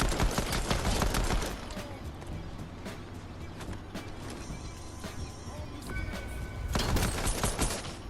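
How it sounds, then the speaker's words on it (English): Rapid bursts of gunfire crackle at a distance in the Fortnite Battle Royale video game, loud at the start, thinner through the middle and swelling again near the end, with a game hum underneath. "Somebody's shooting at a range too."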